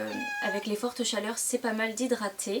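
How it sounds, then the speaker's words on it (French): A domestic cat meows repeatedly near the microphone in short plaintive cries, mixed in with someone talking in French throughout. "c'est mon chat qui pleure"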